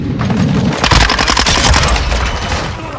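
Sustained, loud automatic gunfire and booming blasts rattle through a Call of Duty: Modern Warfare 2 multiplayer firefight, rapid overlapping bursts with barely a gap.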